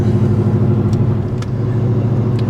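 A supercharged BMW E39 M5 pulling away, heard from inside with the rear seats removed, a steady droning engine and drivetrain hum with faint clicks, close and even, no voices.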